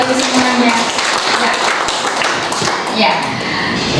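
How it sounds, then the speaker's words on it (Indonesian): An audience at a vocational school workshop breaks into a loud burst of clapping and tapping that continues for several seconds, with voices mixed in. "tepuk tangan untuk Bapak Ibu semuanya"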